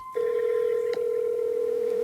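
A phone call to Verizon customer service connects, giving a steady, loud ringback-style tone that holds alone for about two seconds with a brief click partway through.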